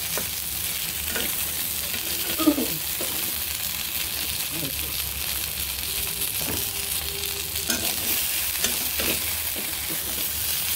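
Steady sizzling of food frying in a little oil in a wok, punctuated by occasional spatula scrapes and soft taps, with faint voices in the background.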